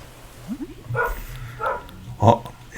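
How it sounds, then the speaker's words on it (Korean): A dog barks in the Animal Crossing: New Horizons game, a few short high yips followed by three spaced cartoonish barks, close and clear with no talk. "옆집 옆집에 지금 강아지 순심이가 짖고 있죠"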